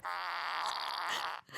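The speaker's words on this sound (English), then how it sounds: "It's a poop emoji fart pen." Poop emoji novelty fart pen letting out one long, loud buzzy fart sound lasting over a second, then cutting off abruptly.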